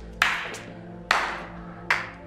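Three slow, deliberate hand claps spaced almost a second apart, close and crisp over a low steady hum, in a Turkish drama scene.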